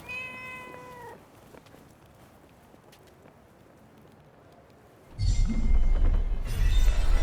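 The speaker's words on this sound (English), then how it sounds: "A cat." In the video game Forspoken, a cat gives a clear meow at the start, followed by quiet ambience and then a loud burst of rustling, clattering game sound near the end.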